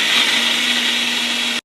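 A blender whirs steadily as it blends Oreos and ice cream, a loud continuous motor hum with a high grinding whine that cuts off abruptly at the end.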